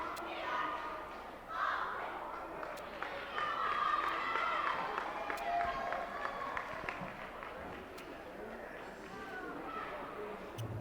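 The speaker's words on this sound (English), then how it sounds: "Got a little Baldwin cheerleaders giving us a little cheer here in the timeout by the Baldwin Highlanders" Baldwin Highlanders cheerleaders chant during a timeout at a boys' high school basketball game, their rhythmic voices and claps rising over a noisy gym crowd for most of the stretch.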